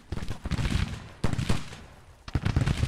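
Artillery rumbles and booms in Grand Tactician: The Civil War, a strategy game, with dense overlapping blasts and crackling volleys packed close together, loud and continuous, with a sharper burst partway through and no voices.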